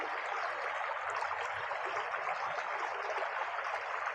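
A river that recently overflowed after heavy rain flows steadily with a continuous broadband rush, moderately close and even in level throughout, with no voices.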